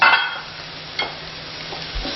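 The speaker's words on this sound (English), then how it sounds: "Scrape the paste off the bottom of the pan" Baba ganoush paste is scraped off the bottom of a hot pan, giving a close, rough scrape followed by a low sizzle and a few softer utensil strokes.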